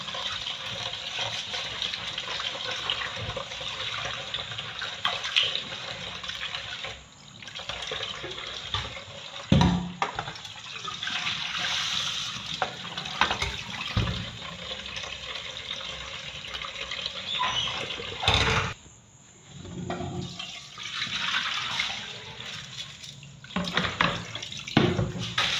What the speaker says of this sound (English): I wash it until the water is clear.